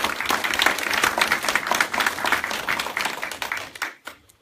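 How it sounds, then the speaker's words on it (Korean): Audience applause at the Auckland Korean Society's annual general meeting and inauguration ceremony, welcoming a guest regional president. Dense, steady clapping from a room of people fills the clip, then tapers off into a few scattered claps at the end. "박수로도 맞이해줬으면 좋겠습니다"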